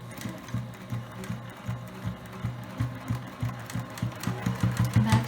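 A home sewing machine back-stitches a fabric coaster, whirring in quick, steady pulses of needle strokes close by, with a low motor hum under a rhythmic chatter and no talk.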